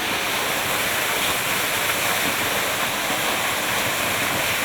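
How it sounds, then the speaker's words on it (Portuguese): Jequitibá waterfall in a Rio de Janeiro forest pours steadily into a small pool, a loud, continuous broadband rush of falling water with no break or voice for the whole stretch. "A queda d'água e o pequeno lago convidam para o banho."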